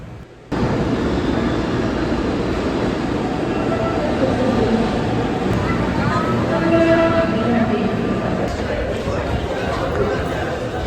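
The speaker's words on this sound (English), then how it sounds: "Then we took the metro into the city" A metro train in Rio de Janeiro rumbles loudly and continuously along the tracks, a dense steady roar with faint squeals and crowd noise inside the carriage.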